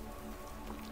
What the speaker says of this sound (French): Revoilà la pluie